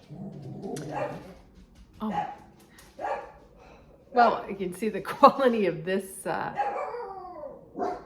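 Dogs bark and yip intermittently in the background while a person talks over them, the barks coming in short bursts through the speech.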